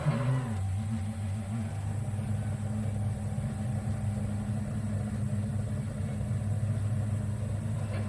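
A race car engine at Silverstone in a racing video game holds a steady, droning mid-low hum throughout, even and unbroken with no clear rise or fall.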